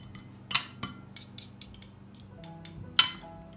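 Ezme ingredients being mashed and stirred with pepper paste in a bowl: repeated sharp spoon clinks and scrapes against the dish, irregular and fairly close, with a louder knock near the end over quiet background hum.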